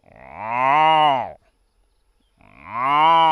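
A voice imitates a cow mooing in two long, loud, drawn-out calls separated by about a second of silence, with no other talk.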